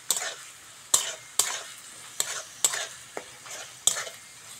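Onion, ginger and garlic paste frying in a pan for a fish curry make a low steady sizzle, while a spoon strikes and scrapes the pan about seven times at an uneven pace, close up with no speech.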